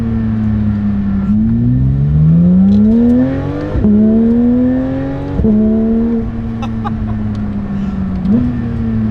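Porsche 911 GT3 engine revving hard on the move, climbing through the gears with repeated rising pitch sweeps broken by sharp shifts, loud and close with no talking.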